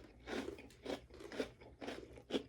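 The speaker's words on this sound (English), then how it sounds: "I'm hearing it. It's good. It is crunchy." Steady crunching of crispy food being chewed close up, about five rhythmic bites in a row with no talking.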